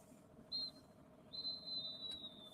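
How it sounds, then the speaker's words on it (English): At a women's football match at the Emirates Stadium, the referee blows a faint half-time whistle, one short blast followed by a longer one, distant and thin over a low crowd murmur. "Half time whistle just goes at the Emirates."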